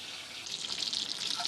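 Tap water pours into a pot in a home kitchen, a steady, close splashing rush that builds and rises in pitch as the pot fills.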